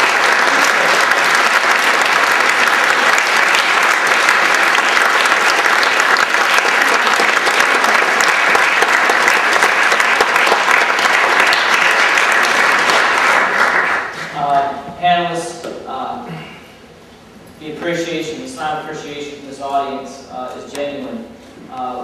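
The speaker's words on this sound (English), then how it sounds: "Can you all give this panel a round of applause?" Audience applause for a panel at a community event on race, loud and sustained for about thirteen seconds before fading into scattered claps as talk begins over it.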